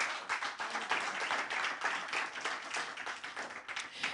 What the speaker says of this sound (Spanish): Eso es, denle un aplauso a Cristo.